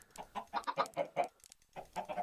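Minecraft chickens on a hardcore-mode farm cluck in quick, close bursts, a run of short clipped calls, a brief pause, then a few more, with no talk over them.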